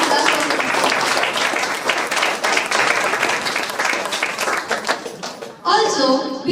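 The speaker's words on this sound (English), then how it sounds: "we can give a big round of applause" An audience at a school drawing competition gives a big round of applause, dense clapping that thins out near the end before a voice begins speaking.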